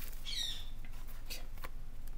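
A bird gives a brief high squawk near the start, followed by faint scattered chirps and light taps over a quiet indoor hiss.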